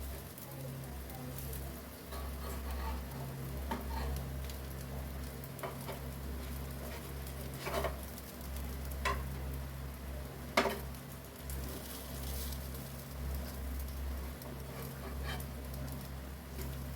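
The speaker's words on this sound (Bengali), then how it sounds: "এবার এটা ওটস দিয়ে ডিম ভাজা হয়ে গেছে" Eggs mixed with oats fry in a pan with a steady, low sizzle, joined by occasional utensil clicks and scrapes as the pieces are turned over.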